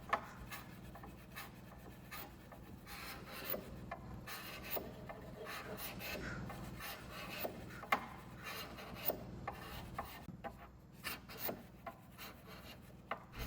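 Scraping old finish off the vertical surface of a 1960s mid-century wooden dresser: steady rasping strokes with irregular louder scrapes, continuous and fairly close, no talk.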